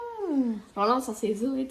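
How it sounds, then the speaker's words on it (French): A house cat gives a drawn-out, falling meow indoors, followed by someone speaking close by. "Bah, c'est un chat quoi."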